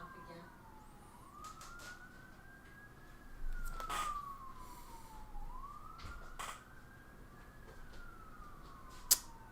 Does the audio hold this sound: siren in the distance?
yes